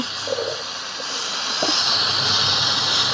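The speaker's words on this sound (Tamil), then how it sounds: "கடம்பா மீன் பார்த்தீங்களா சூப்பராக கொதிக்குது." A steady sizzling hiss of squid gravy bubbling hard in a hot pan, close and fairly loud, with no voices.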